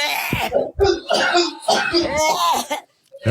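Someone on a TikTok live stream gives a harsh smoker's cough in short bursts. Voices talk and laugh between and over the coughs, close to the microphone.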